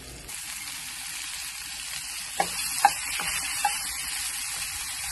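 French toast and sausage frying in olive oil, a steady close sizzle and crackle with a few soft clicks and taps of a utensil against the pan.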